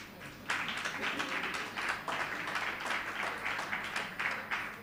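A church meeting crowd applauds, steady clapping from many hands sustained for several seconds, fairly near with a rhythmic pulse.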